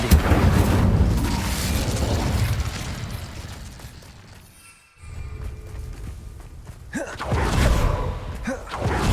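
A fire spell cast in Hogwarts Legacy: a loud whooshing, rumbling burst, followed by a short dip toward quiet and then a fresh rise in roaring noise.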